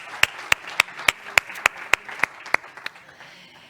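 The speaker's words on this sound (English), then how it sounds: "So again, applause for this signature." Sparse applause at a Huawei Digital Talent Summit signing ceremony, heard as a series of sharp, evenly spaced claps around a third of a second apart, fairly close and clear over a quiet room, thinning out toward the end.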